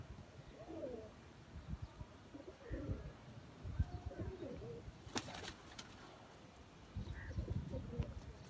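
Soft, low pigeon coos rise and fall quietly in bursts from a pigeon loft, with a few faint chirps and a brief flutter nearby.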